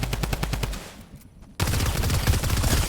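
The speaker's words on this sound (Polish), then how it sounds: "Z czego on strzela?" Rapid automatic gunfire in a video game match, loud close bursts with a short lull before a dense burst of shooting resumes.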